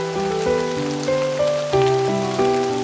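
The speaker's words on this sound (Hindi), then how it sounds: "हल्की बारिश हो रही है" Steady patter of light rain falling nearby, with sustained musical tones playing over it.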